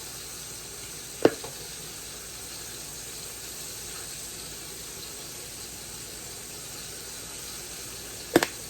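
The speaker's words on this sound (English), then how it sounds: "Y'all hear the chicken in the background still frying." Chicken frying in the background, a faint steady sizzle and hiss running throughout with two sharp clinks from kitchen utensils, no talk.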